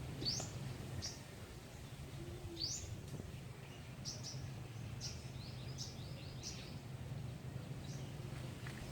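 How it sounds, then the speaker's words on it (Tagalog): Several birds chirp in short, high, repeated calls against a steady low outdoor rumble during a fishing outing, the calls scattered and moderately distant. "Masaya yung awitan ng mga ibon"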